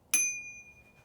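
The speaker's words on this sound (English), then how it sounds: "bell" A single bright ding from the bicycle bell on a Freedare Saiga e-bike handlebar, struck once and ringing out briefly before fading into quiet.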